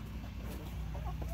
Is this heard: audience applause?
no